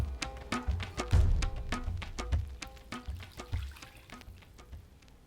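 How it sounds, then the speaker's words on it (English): Onion water is poured into a hot non-stick pan for garlic chilli chicken, giving a splashy, bubbling sizzle with sharp crackles that gradually settle down. "We're going to add the onion water."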